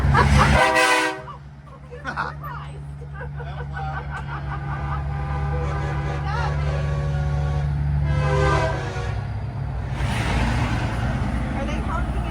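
Truck horns at a truck show blasting back and forth, a long sustained horn tone with a second horn sounding later, fairly loud with people talking nearby.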